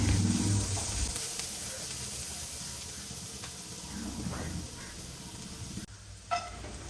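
Onions frying in ghee while being stirred, a steady close sizzle and hiss lasting throughout, with soft scraping stir noises and a brief clack near the end.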